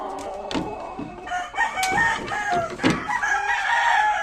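Several white Kelso roosters crow in overlapping bursts, loud and close, with clucking in between and no talking.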